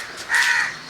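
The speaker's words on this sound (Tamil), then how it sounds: "எல்லா காக்காவும் வந்துட்டு இருக்கு பேர் மேலே" A single crow's hoarse caw rings out overhead, short and fairly loud against a faint outdoor background.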